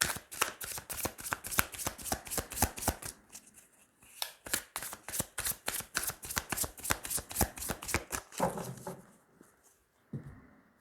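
Tarot cards shuffled in a rapid run of crisp riffling flicks for several seconds, pausing briefly, then more riffles before the deck settles with a few soft taps.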